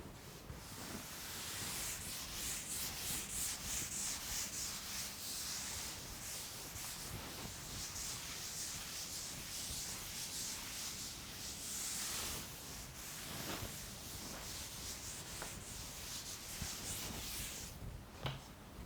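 A board being wiped clean of chalk or marker in a classroom, a steady brushing, rubbing hiss running close and continuous for most of the stretch with repeated strokes and no talk.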